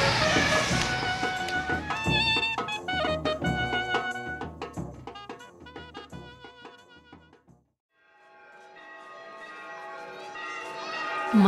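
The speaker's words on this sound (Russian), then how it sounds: "Монотонный призыв колокола в сумерках заставляет абстрагироваться от переживаний прожитого дня" A bell rings at dusk in Jaipur, India, with dense, layered ringing tones that fade to a brief silence and then return as a steadier sustained ring.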